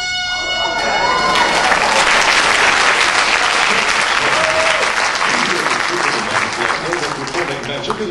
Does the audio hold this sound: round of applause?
yes